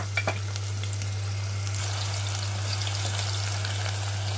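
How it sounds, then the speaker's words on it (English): Onion fries steadily in a pan for a spicy potato curry, giving a continuous soft sizzle with a few clicks near the start, heard over a constant low electrical hum. "one onion, I'm just going to allow this to fry for a bit"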